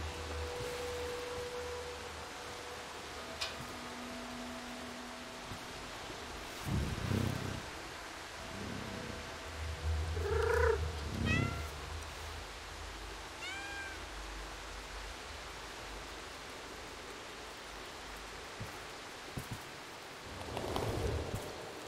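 A cat in the game Stray gives a few soft, scattered meows over a steady hiss of rain, with brief louder moments in the middle and near the end.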